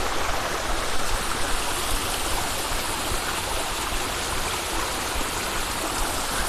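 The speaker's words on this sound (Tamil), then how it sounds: "திருவண்ணாமலைக்கு மேலே இப்படி ஒரு அருவி ஓடுது." A waterfall above Tiruvannamalai pours steadily, a dense, continuous rushing of water that stays loud and even throughout, with no voices.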